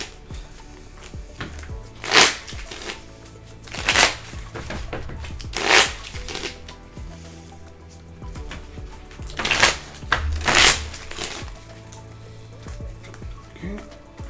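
Playing cards being shuffled during a Hubworld Aidalon tabletop card game match, several bursts of riffling spaced a second or two apart, close and fairly loud, with faint background talk between them.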